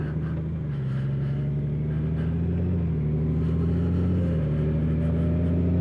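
Kawasaki ZH2 motorcycle engine on a ride at 43 degrees, a steady droning hum with low pitch shifts that rise and fall gently, constant and close under wind, no talking.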